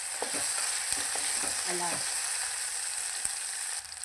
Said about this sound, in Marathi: गुलाबी रंगापर्यंत परतून घ्यायचं मस्तपैकी